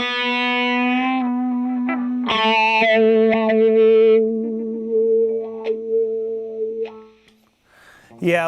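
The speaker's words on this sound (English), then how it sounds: "I'll just let you hear the little bit of drive with the wah pedal." An electric guitar with light drive plays through a wah pedal, with sustained notes and bends whose tone sweeps and shifts, ringing close and loud before trailing into a short pick scrape at the end.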